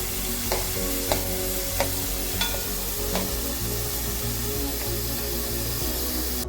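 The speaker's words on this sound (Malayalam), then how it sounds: "ഇത് നല്ലോണം ഈ എണ്ണയിലിട്ട് നല്ല ഫ്രൈ ചെയ്ത് എടുക്കണം." Small onions frying in hot oil for a Kerala elephant yam masala fry, with a continuous close sizzle and a spoon scraping the pan in regular strokes about every half second.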